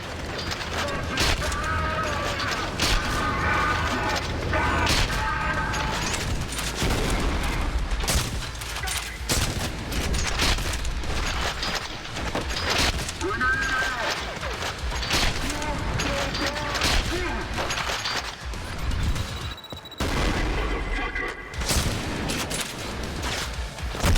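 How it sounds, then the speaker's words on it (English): Shotgun blasts from two dual-wielded shotguns in the shooter game Trepang2, firing in dense repeated bursts over a busy mix of game effects and music, with talk running over much of it. "I'll never tire of bullet time while dual-wielding shotguns."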